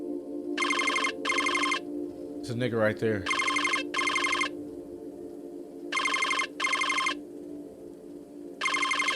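Phone ringing in a video game, a loud electronic ringtone repeating in paired bursts with pauses between them, and a brief spoken remark cutting in partway through.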